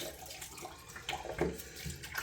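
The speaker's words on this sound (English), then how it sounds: "I'm going to put some water in the sink, some warm water." Warm water runs from a tap into a bathroom sink before a wet shave, a faint, uneven splashing stream close by that grows slightly stronger partway through.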